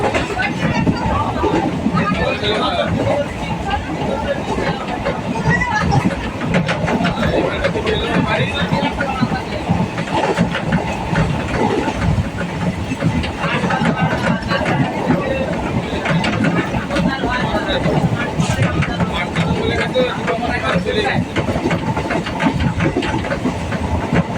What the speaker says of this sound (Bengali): এই দেখো ট্রেন ছেড়ে দিয়েছে আমরা ট্রেনে উঠে পড়েছি